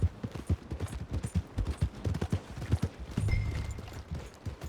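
A horse's hooves clip-clop at a steady trot in Red Dead Redemption 2, a quick regular rhythm of soft thuds close by with light ambient game noise and no voices.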